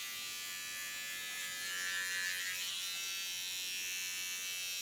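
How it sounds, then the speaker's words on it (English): A small T.K.S. electric hair clipper buzzes steadily while cutting hair in a salon, a close, continuous high whine that swells slightly midway as it works through the hair, with no talking. "The small clipper I use is of T.K.S."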